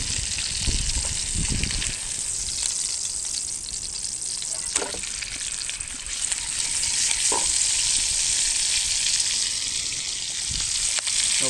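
A stuffed chicken parcel sizzles and fries over a campfire, a loud continuous hiss with crackles, plus a few soft knocks and scrapes as it is flipped with a spatula; wind rumbles underneath.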